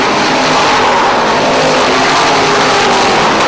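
Race cars roar around an oval short track in a close battle for position, a loud, continuous engine drone with a steady broadband rush and no voices.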